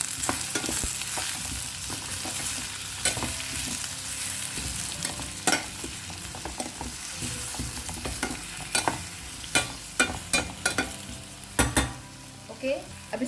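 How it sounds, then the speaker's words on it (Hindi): Jaggery gets stirred into a Goan-style hog plum curry in a pot, with a low simmering sizzle beneath repeated scraping and knocking strokes of a spoon that grow busier toward the end. "अब इसे अच्छे से मिक्स करते हैं।"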